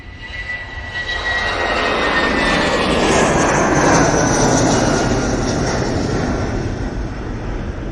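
British Airways airliner engines roaring at Manchester Airport, a loud sustained jet rumble with whining tones that swells and slowly fades as the plane passes.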